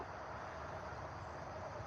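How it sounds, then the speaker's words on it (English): Train on railroad tracks in Syracuse heard at a distance, a low steady rumble with faint rolling texture that stays even and muted, no talking over it. "I heard the train coming"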